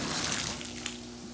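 Water pours steadily from a cabin bathtub faucet turned to hot, a continuous close hiss and splash with no talk.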